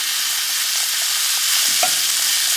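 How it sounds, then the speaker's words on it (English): Pork pieces searing in a hot pan for quesabirria tacos, turned now and then: a steady broadband sizzle fills the whole stretch, with a brief scrape or stir near the end and no talking. "we'll just go ahead and turn this every couple of minutes to make sure we get a good sear on all sides"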